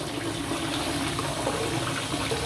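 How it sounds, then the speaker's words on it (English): Water drains away through a sink plug with a continuous close rushing, gurgling wash that holds steady throughout, with no talking. "One of those plugs, the water drains away."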